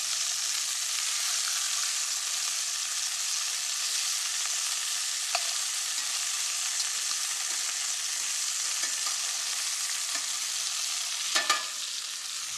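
Meat browning in a pan while being prepared for braising or stewing, giving a steady, moderately loud sizzle with brief clicks and a sharper clatter near the end. No one speaks over it.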